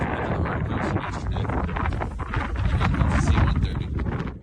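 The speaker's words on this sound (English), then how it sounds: "Very windy, sorry." Strong wind buffets the microphone outdoors on a coast at night, a loud, constant rumbling roar with gusting flutter throughout and no clear talk.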